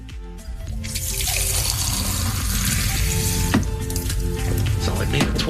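Drink poured in a steady, loud liquid stream that starts after a short moment and keeps running without a break, bright and splashy like a tap filling a glass.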